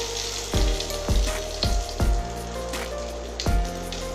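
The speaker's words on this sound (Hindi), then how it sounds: "शुखिला लंका गोटे भल भाव भाजी देबा।" Dried red chilies and panch phoron fry in hot oil in a home kitchen, a steady close sizzle broken by about six sharp pops and spatters at irregular intervals, with no talk.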